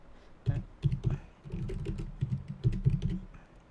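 Someone types on a computer keyboard, entering a place name into a map search, with quick bursts of soft key clicks and short pauses, close and moderately quiet, with no talking.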